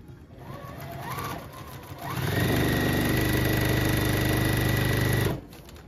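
A sewing machine stitches a quilt block seam, its motor whirring in a steady fast rhythm that starts softly, then runs loud and continuous for several seconds before stopping abruptly.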